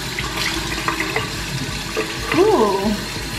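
Tap water runs steadily into a sink while a foamy face mask is rinsed off, with a person talking and making brief vocal sounds over the flow.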